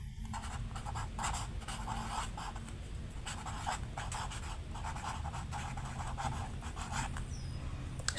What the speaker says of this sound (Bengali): তাহলে লিখি